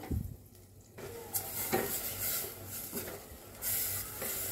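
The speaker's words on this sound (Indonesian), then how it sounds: "Tumis sampai bumbunya matang dan harum. Aduk-aduk." Ground spice paste being stir-fried in a pan for burgo, a soft steady sizzle with scraping stirring strokes and occasional louder spatters, close and continuous.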